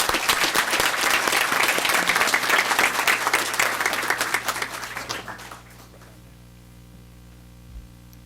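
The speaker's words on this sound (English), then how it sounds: "Let's give her a round of applause." An audience at a Board of Education meeting gives a student a round of applause, loud and dense for about five seconds before fading out quickly into a quiet room hum.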